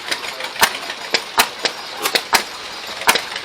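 An old hit and miss engine, a 1940 Superior oil well engine with a 6.5-inch bore and 8-inch stroke, runs nearby with loud, sharp, irregularly spaced pops and clacks over a steady mechanical hum.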